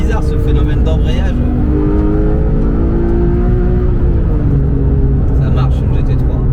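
A Porsche 991 GT3 Touring on the road, its engine droning steadily with a rising and falling pitch as it pulls, close and constant throughout, with someone talking over it.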